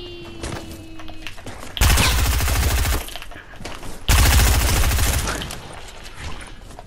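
Video game gunfire from a floating gun erupts in two loud rapid bursts of automatic fire, each lasting about a second, separated by quieter game ambience.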